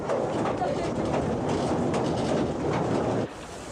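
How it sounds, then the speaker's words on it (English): A 1962 C2 steam locomotive runs along the tracks through steep valley country on a special service line, a steady loud rumble and rattle of rolling train that suddenly drops away near the end. "The train has been running along the tracks to the left."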